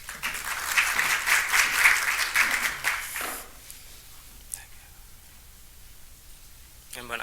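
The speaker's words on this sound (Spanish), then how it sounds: "Un aplauso para él." Audience applause at a medical conference for a speaker on childhood orbital tumors, a dense burst of clapping for about three seconds that fades into quiet room tone, with brief speech near the end.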